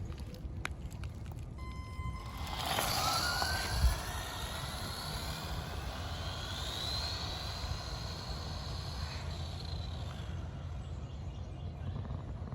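A restored 1986 Kyosho Ultima RC buggy on a 2S LiPo battery makes a top-speed run, its electric motor whine rising in pitch as it accelerates past and then fading steadily into the distance.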